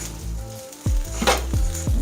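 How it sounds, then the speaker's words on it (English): Shrimp fried rice sizzling and frying in a pan, a steady crackling sizzle with a few soft clanks of a utensil against the pan, close and alone. "Let it sit for a couple of minutes. Let it fry up."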